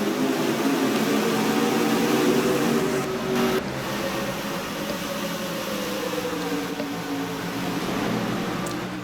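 Pack of racing truck engines roaring at the green flag start of a Stanley Tools Truck Series round in Texas, a dense continuous drone with a brief dip partway through and no voices.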